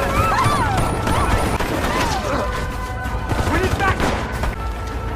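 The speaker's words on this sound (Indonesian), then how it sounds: "mendengar suara tembakan dari belakang rumah Dylan" Gunfire bursts from behind a house in a film scene, overlapping shots and crashes mixed with dense background music and action noise, loud and continuous throughout.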